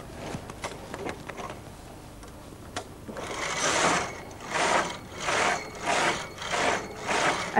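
A Brother knitting machine runs its carriage across a few rows, giving a steady rhythmic whir and clatter in regular back-and-forth passes that grow louder after a few quiet, scattered clicks at the start, with no talk.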